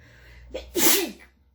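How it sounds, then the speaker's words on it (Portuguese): A person's attempted sneeze: a quick intake of breath, then a short breathy burst that trails off without a full sneeze, close and alone. "eu tô tentando espirrar, mas não deu"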